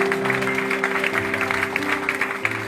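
Applause from a church congregation during a worship service, a steady wash of many hands clapping in loose rhythm for the whole stretch, fairly close and full, with a sustained sung or droning tone underneath.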